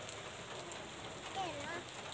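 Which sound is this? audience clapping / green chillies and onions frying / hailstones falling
hailstones falling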